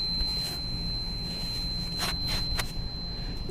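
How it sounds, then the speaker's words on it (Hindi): A multimeter on continuity test, probing split air conditioner wiring, emits a steady high-pitched beep lasting the whole time over faint background noise and a couple of soft handling clunks. "तो आप बीप का साउंड भी सुन सकते हैं"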